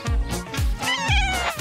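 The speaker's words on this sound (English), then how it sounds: "a kitty" A cat meows three times in quick succession, each call loud and close with a falling pitch, heard on its own without any talking.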